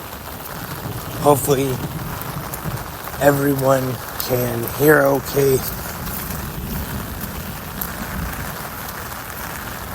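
Steady rain on a very rainy Saturday morning in Taylor, Michigan, a continuous broadband hiss running throughout beneath a man's intermittent speech.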